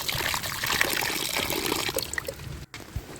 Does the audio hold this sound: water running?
yes